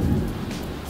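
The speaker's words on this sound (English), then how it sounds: "it's out here thunderstorming" Deep rolling thunder rumbles loudly in a Sims 4 thunderstorm, with a hiss of falling rain beneath, a single heavy peal fading across the short moment.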